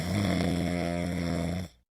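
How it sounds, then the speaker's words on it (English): Steady, loud snoring held as one long drawn-out breath, with a strong rumbling buzz that cuts off abruptly at the end. "Snoring."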